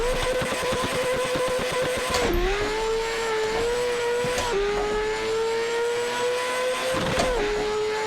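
A rotary-swapped McLaren drift build in Assetto Corsa screams through a top-speed run, a loud, steady high-revving drone broken by three distinct upshifts, each with a brief dip in pitch before it climbs again; no talking.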